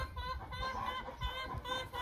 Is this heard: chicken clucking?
yes